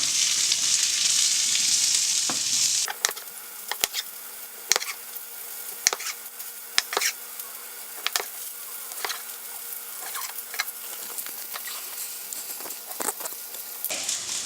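Food browning in a pan with pea, giving a dense high sizzle that drops after a few seconds to a softer steady fry with scattered sharp crackles and pops, close and alone.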